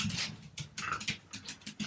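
A beagle playing and growling, giving continuous rough vocal rumbles and snorts close up, loud and busy, with no speech.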